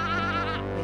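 A single sheep bleat, a short wavering nasal call lasting under a second, close and clear with no other sounds.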